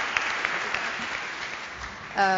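A live audience at a folk music concert claps steadily in dense applause that slowly tails off, with a voice and a brief tonal sound entering right at the end.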